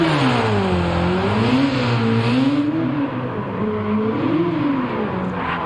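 Race car engine in Gran Turismo 7, loud and close, revving up and down through several gear changes with a rising and falling pitch, cutting back briefly before climbing again.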